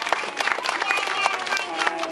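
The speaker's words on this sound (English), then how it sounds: "Can everyone give her a round of applause and Luke as well?" Scattered audience clapping at an aquarium show, with quick overlapping claps running steadily through the moment while voices carry on over the top.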